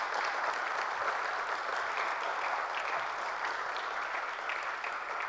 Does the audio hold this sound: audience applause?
yes